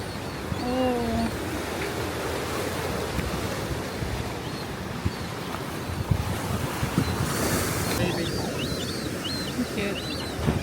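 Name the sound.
ocean waves on the La Jolla coast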